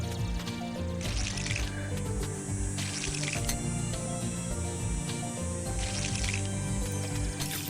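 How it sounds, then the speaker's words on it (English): Watering plants with a watering can in the farming video game Monster Harvest: game sound effects of splashing, dripping water in repeated short bursts over continuous background music. "Just gotta finish up watering these."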